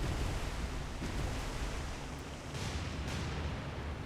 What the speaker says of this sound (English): A lot of splashes.